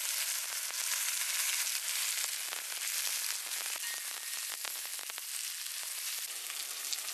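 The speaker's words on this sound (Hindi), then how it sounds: "अब यहीं पे कटा हुआ प्याज डाल देंगे अपना।" Chopped onion frying in hot oil with bay leaf, chilli and cumin, a steady, dense sizzle that crackles continuously and fairly loudly throughout, with no voices.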